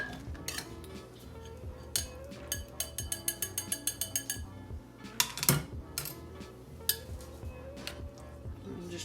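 A metal spoon scoops cheese sauce out of a slow cooker crock with repeated clinks and scrapes, including a quick run of rhythmic taps, all close and moderately quiet.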